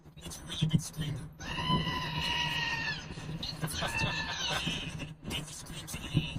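A goat screams and bleats in loud, drawn-out harmonic cries from inside a cave, two long calls broken by short gaps, with people talking over and between them.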